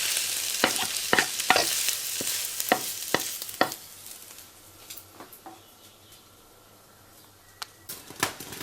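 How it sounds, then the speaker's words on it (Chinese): Beaten eggs stir-fried in hot oil: a run of sharp spatula scrapes and clacks against the wok over a soft sizzle, busy at first, then thinning to occasional strokes near the end. "油热倒的鸡蛋液， 鸡蛋炒好倒出来。"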